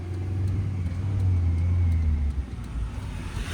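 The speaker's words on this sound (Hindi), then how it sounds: "क्लच को फ्री करो, स्पीड बढ़ाओ फुर्ती से, सेकंड गियर करो" Car in a driving lesson pulling away, its engine giving a close, steady low hum that swells briefly, then drops and settles after about two seconds as the gear changes to second.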